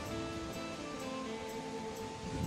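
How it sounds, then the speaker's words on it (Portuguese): The Cascata Conde d'Eu, a large waterfall in open countryside, roars as a steady broadband rush of falling water that stays constant throughout with no voices. "Aqui, ó, Cascata Conde Deu. É o nome dessa cascata aqui."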